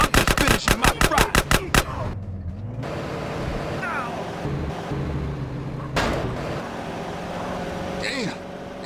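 Rapid bursts of gunfire in GTA San Andreas, about a dozen sharp, loud shots in quick succession at the start, followed by engine and vehicle noise with voices talking over it.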